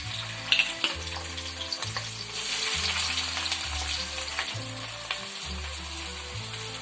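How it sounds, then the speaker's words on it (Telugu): Sliced onions fry in about four spoons of hot oil, a loud, continuous, close sizzle with light stirring and a steady low rhythmic hum beneath, with no talking. "ఉల్లిపాయలు కొంచెం ఎర్రగా వేగనిచ్చి, ఉల్లిపాయలు లైట్గా వేగినాయి కదండి"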